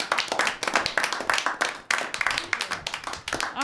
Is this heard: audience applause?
yes